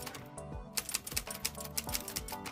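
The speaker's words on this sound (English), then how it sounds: "It's a typewriter." Rapid typewriter keystrokes clack in an uneven rhythm, close and crisp, with a few heavier thumps mixed in.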